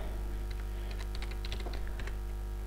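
Someone types code on a computer keyboard, with soft, fairly quick, irregular key clicks over a steady low electrical hum and no voices.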